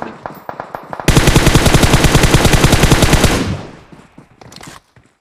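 Rapid automatic gunfire in the mobile battle royale game PUBG Mobile: a few scattered shots, then a long loud sustained burst of evenly spaced rounds that cuts off, followed by sparse trailing shots.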